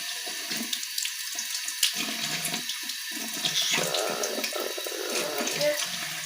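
Running tap water pours steadily as a makeup brush for the eyebrows is rinsed under it, a continuous close splashing hiss with slight shifts as the brush moves through the stream.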